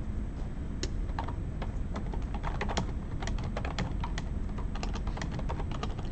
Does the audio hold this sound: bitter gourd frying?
no